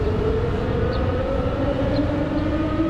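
A civil defense siren wails steadily in Pyongyang, North Korea, a sustained distant tone over a continuous loud urban rumble with no talking.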